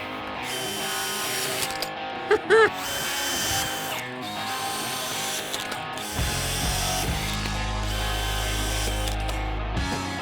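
A power drill drives self-drilling deck screws into wood boards on an 1880s farmhouse deck build, with several short bursts of whirring and ratcheting near the microphone and a steady low hum toward the end.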